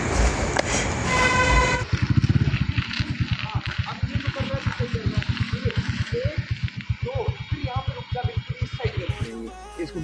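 A vehicle horn in slow traffic plays the snake-charmer nagin tune as a long run of quick, evenly pulsed notes, loud and close, after an opening horn blast, with faint voices around it.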